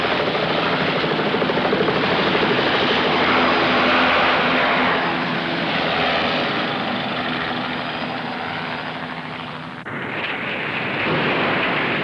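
A rescue helicopter sits ready for takeoff, its rotor and turbine producing a loud, continuous whine and roar that holds steady, dips briefly, then resumes near and strong.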